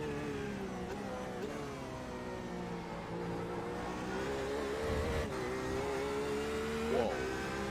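LMP2 prototype race car engine in a Le Mans racing game: a steady, moderately quiet engine drone that rises and falls gently with throttle, harmonic whine running throughout, brief faint voice beneath.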